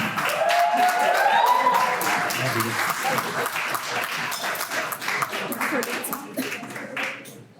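Wedding guests at a reception applaud after a toast to the bride and groom, warm clapping mixed with crowd murmur and a few voices, gradually thinning out toward the end.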